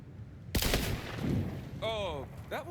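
A gun fires at a target in Borderlands 4 with one loud, sharp blast and a rumbling tail, followed by a voice speaking in a tonal, processed way.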